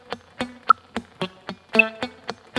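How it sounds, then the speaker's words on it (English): Palm-muted electric guitar notes picked too far from the bridge in a funk part, about ten short, dead, thumpy plucks in an even rhythm, close and dry with no ringing sustain and no talk. "If I'm too far forward, those muted notes are going to sound too dead."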